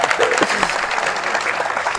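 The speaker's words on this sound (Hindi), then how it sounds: "तालियां बजाइए इस बार।" An audience at an Urdu poetry mushaira in Malad bursts into close, busy applause, with voices and a bit of crowd chatter mixed in throughout.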